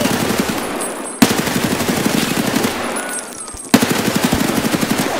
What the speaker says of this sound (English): Dude, he is taking shots, man.